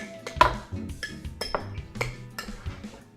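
A spoon scrapes and clinks against a bowl while ricotta stuffing for apple and ricotta stuffed pork chops is mixed, giving irregular sharp metallic taps and knocks close up, with no talking.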